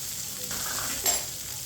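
Shredded cabbage and bell pepper being stirred in a hot pan for chicken macaroni, a steady close sizzle with a brief scraping sweep midway.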